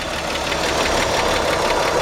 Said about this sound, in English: listen to this engine just purr